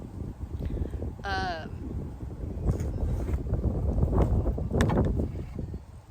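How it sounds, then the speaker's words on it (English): Wind gusts outdoors, a broad rushing roar buffeting the microphone throughout, with a voice speaking over it. "There's the wind."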